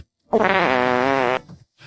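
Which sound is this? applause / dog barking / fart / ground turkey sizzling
fart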